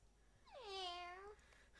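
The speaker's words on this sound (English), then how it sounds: "Did you just do the cat noise?" A single drawn-out cat meow from a pet cat in the online game LOTRO, rising and falling over about a second, clear and fairly close against a quiet background, with no talk over it.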